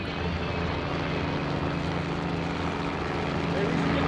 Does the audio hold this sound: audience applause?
no